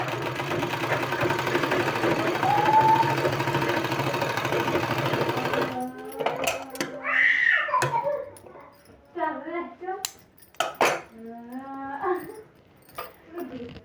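Sewing machine stitching a sleeve design runs steadily for several seconds, fairly close and even, then stops and someone talks in short bursts.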